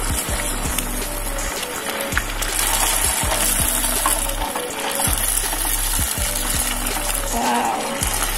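Sempol ayam fries in hot oil with a steady dense sizzle, punctuated by a regular low rhythmic thumping and occasional clinks of a utensil in the pan, close and continuous with no talking.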